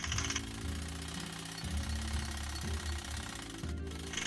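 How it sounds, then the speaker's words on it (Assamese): Mekhela fabric is stitched on a sewing machine in a steady, loud mechanical hum that stops and restarts in short runs, with no voices. "এতিয়া মই এই চিলাইটোৰ ওপৰতে আকৌ চিলাই দিম।"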